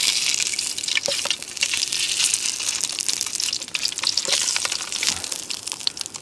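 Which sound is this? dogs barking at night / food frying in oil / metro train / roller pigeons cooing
food frying in oil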